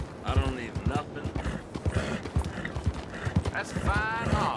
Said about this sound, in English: That's a fine horse.